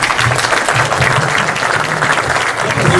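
Loud, dense applause from a theater audience at a horror film premiere, a steady roar of many hands clapping that holds at full strength for the whole stretch.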